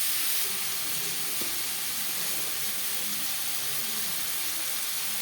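Tomato and garlic being mixed into onions in a hot pan for a Bengali jackfruit and prawn curry, heard as a steady close sizzle and hiss with faint stirring, no talk.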